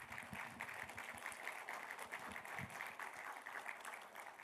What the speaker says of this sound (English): you have to give a big round of applause to this